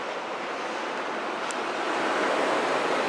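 Steady broadband wash of ocean waves and surf at a beach, continuous and fairly loud throughout with wind-like hiss and a slight swell toward the end, no voices.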